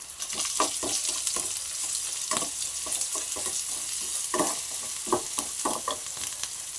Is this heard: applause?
no